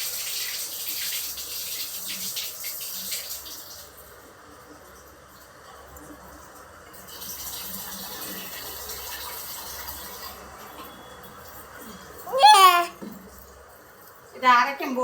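Rice being washed in water before soaking gives a faint swishing, running-water sound in uneven patches, with brief voices breaking in near the end.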